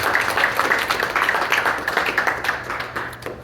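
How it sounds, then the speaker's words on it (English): An audience at a gathering claps in a steady round of applause that fills a few seconds at moderate loudness. "I'd like to start us off with a round of applause."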